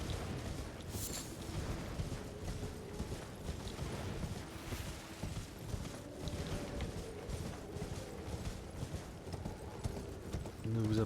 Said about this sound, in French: Donc on monte directement le cheval.